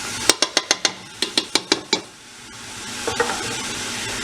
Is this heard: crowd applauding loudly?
no